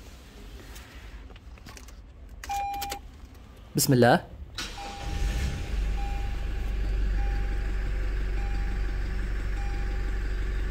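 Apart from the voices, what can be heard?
Toyota Prado diesel engine started with key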